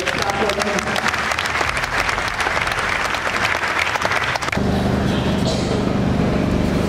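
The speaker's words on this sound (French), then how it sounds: "Acclamons Jésus." A church congregation applauds Jesus at a healing service, sustained loud clapping with crowd voices mixed in, then a steadier, slightly thinner wash of applause near the end.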